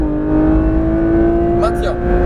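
A Porsche 992 GT3 RS runs on the Fontenay-le-Comte race circuit, heard from inside the car as a loud, steady engine drone at an even pitch, with a brief voice near the end.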